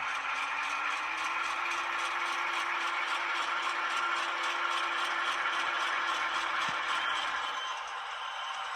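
Two model train locomotives running as a consist on a layout start moving along the track, giving a steady, close mechanical whir with a light rattle and gear clatter that hums on continuously throughout.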